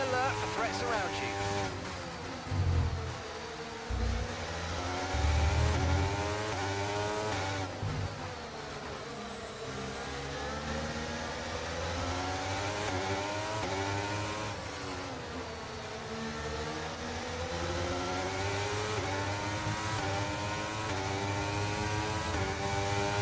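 Formula 1 race car engines in the F1 23 racing game at the Hungary round, sustained high-pitched engine whine rising and falling through gear changes, with a passing car and a voice over the top.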